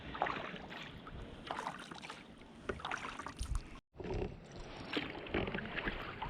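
Canoe paddling on a lake near an island during a New Brunswick camping trip, with close, rhythmic water swishes and splashes over steady wind noise, broken by one brief dropout.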